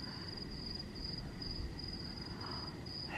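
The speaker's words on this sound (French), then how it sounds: "Est-ce qu'il y a que moi qui apprécie le bruit des grillons le soir?" Crickets chirp in the evening outdoors, a steady high pulsing trill that carries on continuously at low volume over soft ambient noise, with no one talking.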